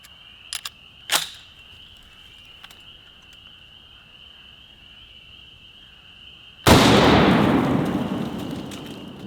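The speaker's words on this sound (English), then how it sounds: "now I got a fresh watermelon up there, and we're gonna try one of these ballistic tip rounds." An M1 Garand rifle fires a ballistic tip round into a watermelon outdoors, a single loud sharp blast that decays over a few seconds, preceded by quiet rustles and clicks under a steady insect chirp.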